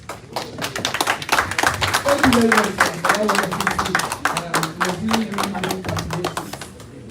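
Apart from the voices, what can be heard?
audience applause after speech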